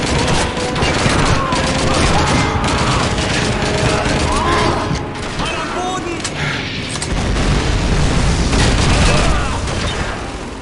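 Loud, continuous battle gunfire from Call of Duty 2, with a dense fusillade of rifle and machine gun shots and booms running throughout the battle.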